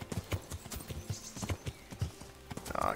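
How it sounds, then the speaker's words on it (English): Horse hooves clip-clop in a steady galloping rhythm as a horse is ridden through the medieval game Kingdom Come: Deliverance, with scattered game sounds around them and a brief rattling noise at the end. "I'm driving this horse like I drive a race car"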